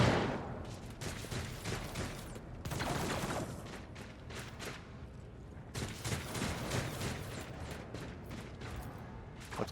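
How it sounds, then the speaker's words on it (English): Dense, continuous bursts of rapid video-game gunfire in Rogue Trader rattle without pause, loud and chaotic, with brief dips before the volleys resume. "I hear gunfire up here"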